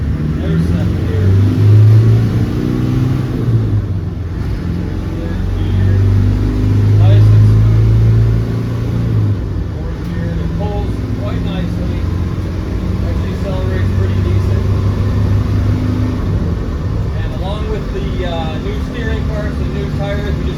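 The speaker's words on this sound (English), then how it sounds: "There's first gear, there's second gear." Diesel engine of a 1996 Land Rover Defender 110 with the 300Tdi pulling through the gears from inside the cab, a steady mid-pitched drone rising and dipping as it shifts, with someone talking over it throughout.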